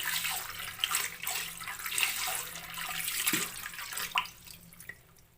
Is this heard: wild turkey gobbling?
no